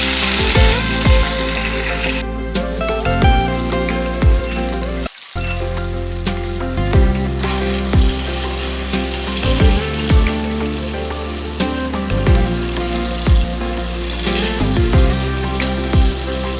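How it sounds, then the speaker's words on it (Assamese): Small fish, salted and coated in turmeric, fry in hot oil in a wok, sizzling continuously and loudly throughout with no speech. "মাছকেইটা আধা ফ্ৰাই কৰি ল'লোঁ।"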